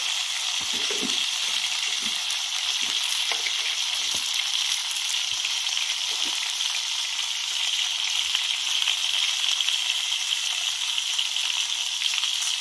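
Eggplant curry frying and being stirred in a pan with oil and black masala, a constant bright sizzle with occasional soft knocks of the spoon, close and steady throughout.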